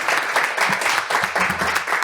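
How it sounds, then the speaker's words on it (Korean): Audience applause at a privacy and data protection forum as a professor is welcomed to present: steady, dense clapping from a seated crowd, moderately loud and continuous throughout. "큰 박수 한번 주시기 바랍니다"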